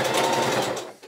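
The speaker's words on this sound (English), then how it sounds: "Yeah, I'm going to be sewing just under that half inch mark." A sewing machine stitching a seam on thrifted swim trunks, a close, loud, fast steady whir that runs for about a second before stopping.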